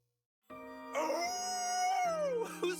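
A long, wavering howl rises and bends in pitch in the Fire Emblem Engage video game, sounding clear and close with no talk.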